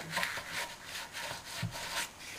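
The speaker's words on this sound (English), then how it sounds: "I will mop that out first with a bit of kitchen towel." Kitchen towel wiping petrol out of a Briggs & Stratton 3.5 carburettor bowl: soft, close rubbing strokes in a steady back-and-forth rhythm, quiet and alone.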